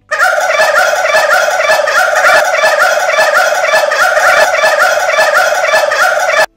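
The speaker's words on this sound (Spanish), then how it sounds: "Esto es una granja de pavos." Turkeys on a turkey farm gobble in a loud, dense, continuous chorus of many overlapping birds, close by and without a break for over six seconds.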